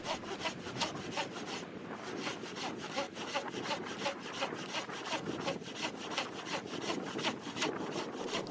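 A lightweight hand saw fitted with a carbide-tooth reciprocating blade cuts firewood branches in quick, steady back-and-forth strokes, a close rasping rhythm that runs throughout without talk.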